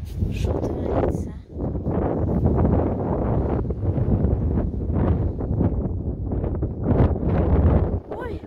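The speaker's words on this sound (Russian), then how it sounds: "Вот такой ветер." Strong squally gusts of wind in Bryansk region, Russia, buffet the microphone in loud roaring surges, with brief lulls between them; a voice talks intermittently in Russian underneath.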